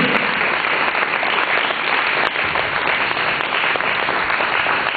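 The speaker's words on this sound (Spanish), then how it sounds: "Dale nuevamente un aplauso en la alabanza." Loud, continuous applause fills a church during worship, a dense unbroken wash of clapping with no gaps.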